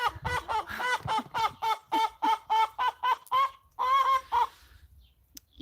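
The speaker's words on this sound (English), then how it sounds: "This is my biggest chicken of all." A large backyard chicken clucks close by in a fast, steady run of about a dozen throaty clucks. It pauses, gives a couple of longer drawn-out calls, and then falls nearly silent.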